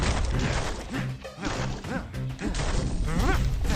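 Hammer smashing objects apart in the video game Bastion, a run of loud, dense whacks and crashes layered over busy game music and effects.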